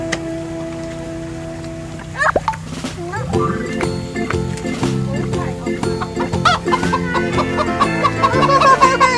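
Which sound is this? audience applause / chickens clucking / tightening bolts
chickens clucking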